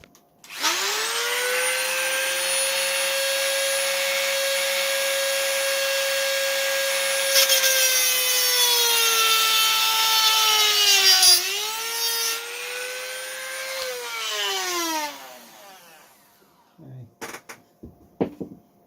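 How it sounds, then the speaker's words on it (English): Small power drill boring a hole through the top of a Mercury Tiger Moth RC model aircraft near the motor, a steady whine that dips and shifts pitch as the bit bites, then stops abruptly. "I'm just going to drill another hole in the top, which should be very close to the motor"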